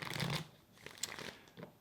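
Tarot cards shuffle in short riffling bursts of papery flicks and snaps, close and fairly quiet, separated by brief pauses.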